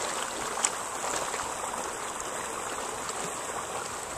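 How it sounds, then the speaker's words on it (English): Steady broadband rush of water in a swimming pool, a continuous close wash with a single brief splash near the start and no talking. "I'm swimming."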